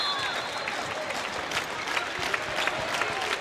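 Volleyball crowd at a men's college match, Ball State versus Quincy, cheering and applauding steadily at game point before a serve, a dense continuous roar of claps and shouts throughout.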